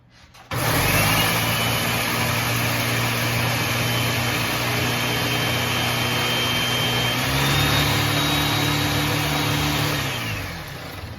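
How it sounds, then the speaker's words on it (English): A Ninja blender grinds baking ingredients into a fine powder. Its loud, steady motor whir runs continuously for about ten seconds, rising in pitch partway through before it cuts off. No one speaks. "I'm just going to turn on the Ninja for a minute to get those ground down into a finer powder."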